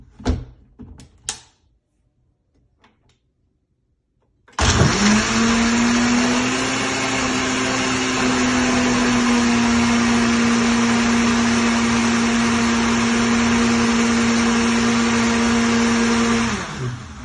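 After a few soft clicks and knocks, a blender starts up loudly and grinds a green smoothie made with water for about twelve seconds, holding a steady high whine before spinning down.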